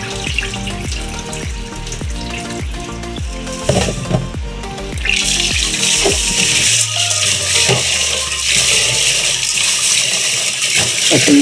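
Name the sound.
water poured over mung beans for cooking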